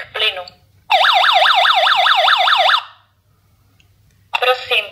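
A flammable gas detector's loud electronic alarm warbles in rapid rising-and-falling tones for about two seconds during a gas leak test, with brief spoken announcements just before and after.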